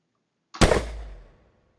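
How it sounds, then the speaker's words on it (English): A single gunshot played back as a warning cue in a spatial sound experiment, one sharp loud crack after near silence, followed by a quick decaying echo tail. "Let me play the gunshot sound."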